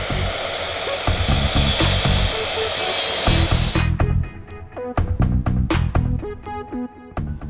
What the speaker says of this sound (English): 5 secrets to success to make clean miter saw cuts